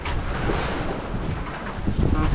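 Big ocean waves wash around a motorless sailboat under sail, with steady wind buffeting the microphone throughout and a continuous roar of water and spray close by, no talk.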